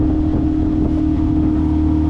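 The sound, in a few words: boat running on outboard kicker motor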